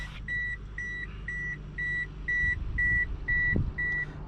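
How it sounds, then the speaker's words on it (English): A steady, evenly spaced key-in-ignition warning chime, about two per second, repeats persistently over a low engine-like hum inside a 2005 Pontiac Vibe GT. "Key is in the ignition, hence the beeping"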